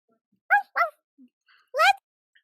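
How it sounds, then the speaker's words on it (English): A dog gives a few short, sharp barks close by, two in quick succession and then a louder third after a pause, with faint small noises between them. "And this is my favorite dog"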